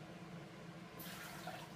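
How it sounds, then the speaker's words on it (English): Water is dumped into a cooking pot of grain being prepared like rice, making a soft, brief splashing pour that rises sharply about halfway through over a low background hum. "Can you dump the water in the pot?"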